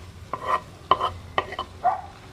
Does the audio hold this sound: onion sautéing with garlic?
yes